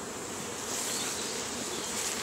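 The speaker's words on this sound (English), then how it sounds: "I'm walking through a crowd of bees." Honeybees swarm around a hive during swarm control, a dense, loud, continuous buzzing close all around, steady throughout the short stretch.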